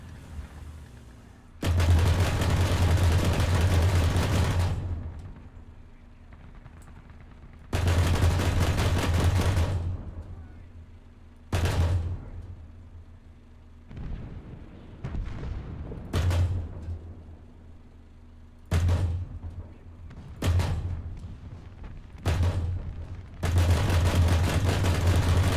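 Video game gunfire comes in long, loud sustained bursts of rapid automatic shots, several volleys separated by short pauses and shorter bursts, with no talk.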